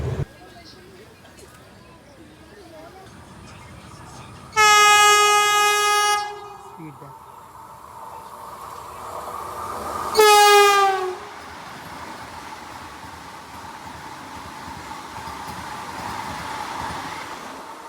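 The 13066 Amrit Bharat Express pulls away slowly. Two long, loud train horn blasts stand out over a low steady rumble of the rolling train.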